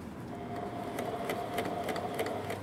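A sewing machine runs steadily while stitching a jeans hem, a continuous close mechanical whir with faint rhythmic needle ticks, fairly quiet and without talk.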